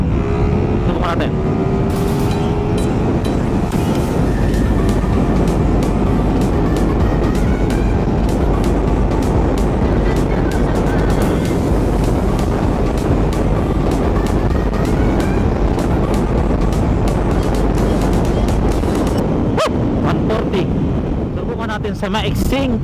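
A carbureted Suzuki Raider 150 motorcycle accelerates hard in fourth gear on a short road, its loud engine roar and wind rush sustained throughout, close to the rider.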